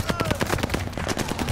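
Rapid automatic gunfire in Call of Duty Vanguard multiplayer, a dense string of close, loud shots firing without pause across the whole stretch, with a faint game tone beneath.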